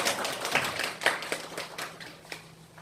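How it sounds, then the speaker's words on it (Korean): A small church congregation claps briefly during a Sunday afternoon service, a few loose, uneven claps that thin out and fade within a couple of seconds. "박수 한번 쳐주시죠"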